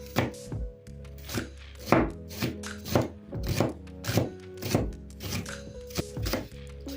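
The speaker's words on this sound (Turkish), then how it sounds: "3 adet soğan doğruyoruz yemeklik bir şekilde" A knife chops onions on a cutting board in steady, repeated thuds, about two strikes per second, close and clear, with no voices.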